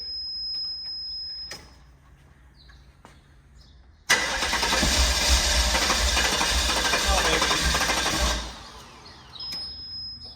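Guanci SSJ prototype car engine fires at its first start, bursting into a loud, rough running roar for about four seconds before cutting back to quiet.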